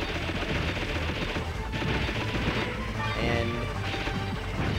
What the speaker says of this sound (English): let's blow up these last two tanks